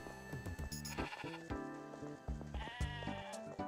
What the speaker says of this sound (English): And now my sheep have escaped their pen.